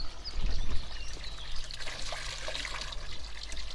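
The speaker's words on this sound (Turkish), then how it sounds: "Hemen arsamızın bakın dibinde çeşme var arkadaşlar. Temiz su." Clean water runs steadily from an outdoor village fountain beside a pine-covered plot, a continuous near splash and trickle with a faint bird in the background and no talking.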